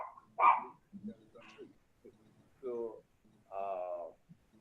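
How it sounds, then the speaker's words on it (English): A dog barks several times close by, sharp separate yaps with short pauses between them, and faint murmuring in the background. "my dog will be barking"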